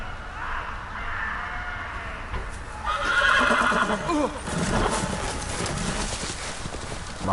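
A horse neighs with a drawn-out whinny, mixed with clip-clop hoofbeats and some background voices, in a scene with a medieval fantasy setting.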